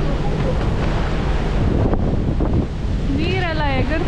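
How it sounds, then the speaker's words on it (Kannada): Strong waves surging and splashing water upward beneath the person filming, heard as loud rushing surf under heavy wind buffeting on the microphone, with a brief whistling tone near the end. "ನೀರೆಲ್ಲ ಎಗರ್ತಾ ಇದೆ ನನ್ನ ಮೇಲೆ ಕೆಳಗಡೆಯಿಂದ, ಅಷ್ಟು ಫೋರ್ಸ್ ಇದೆ."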